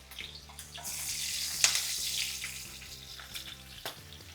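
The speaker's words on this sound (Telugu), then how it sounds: "కాస్త పసుపు ఇవన్నీ వేసి బాగా వేగాలి." Green chilies, garlic, curry leaves, asafoetida and turmeric frying in hot oil for a mango dal tempering, giving a steady close sizzle with a brief louder crackle midway, over soft background music and no talk.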